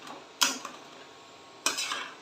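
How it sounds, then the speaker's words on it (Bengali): Spinach being stirred with spices and ghee in a frying pan, heard as two distinct scrapes and clinks of a utensil against the pan over a faint low sizzle, with no talking. "এবার ওগুলো মশলার সাথে ভালো করে মিশিয়ে দিচ্ছি।"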